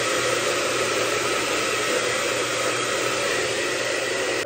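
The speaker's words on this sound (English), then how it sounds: "Now I just use the hotel hairdryer." A hotel hairdryer drying hair: a loud, steady roar blowing continuously at close range, a dense rushing airflow with no pauses.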